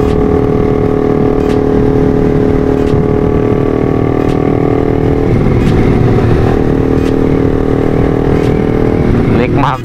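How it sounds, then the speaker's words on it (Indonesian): A Honda New CB150R motorcycle fitted with a racing exhaust revs loudly and continuously up close, its engine note rising and surging throughout with a few sharp blips. "nikmat kalau pakai knalpot racing itu nikmat suaranya ya, merdu gitu loh"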